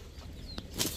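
A pigeon's wings flapping in a short fluttering burst, quiet and close, lasting under a second with no talking.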